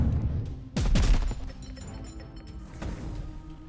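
A burst of gunfire sound effects from the Warhammer card game Point Blank Shot: a quick, dense volley of loud shots lasting about half a second, followed by a softer, scattered crash, with a faint voice in the background.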